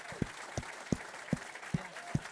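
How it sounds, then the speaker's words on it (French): Sparse applause at an awards ceremony, with about six separate, fairly faint claps spaced at a steady rhythm, as if from a small group in a hall. "Continuez de les applaudir, Mehdi et Marion qui nous rejoignent."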